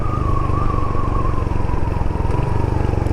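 A Royal Enfield Hunter 350 single-cylinder motorcycle engine thumps steadily at low revs as the bike makes a tight turn, loud and close with a faint whine above the rhythmic pulse, and no one talking.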